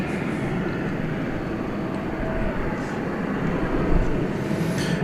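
Jet airliner at DFW Airport roaring steadily and loudly nearby, a broad continuous rumble with no talk.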